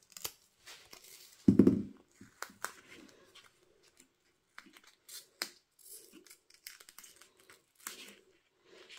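Close-up scissors give one sharp snip through double-sided foam tape, followed by scattered small clicks, crinkles and handling noises.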